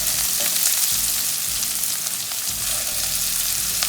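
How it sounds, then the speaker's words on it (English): Boiled potatoes and green chilies sauteing in a pan with cumin seeds, a loud, steady sizzle and crackle of frying heard up close with no talking. "I'm going to add the green chilies and the potatoes. Saute the potatoes till they are slightly brown."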